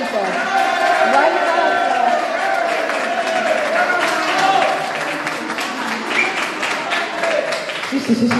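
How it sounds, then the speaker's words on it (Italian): Audience applause at a book presentation in Riesi, clapping under lively crowd noise and chatter with people talking over it throughout. "fateli l'applauso, vai"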